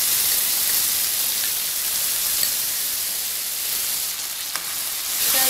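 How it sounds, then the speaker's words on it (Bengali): Steady, dense sizzle of soybean curry masala frying with ginger paste in a pan, a continuous close hiss with no clear stirring strokes audible and no talk. "এবার এগুলো একটু ভালো করে মিশিয়ে নেব। ভালো করে মিশিয়ে নিয়েছি, এবার আমি দিয়ে দিচ্ছি আদা বাটাটা।"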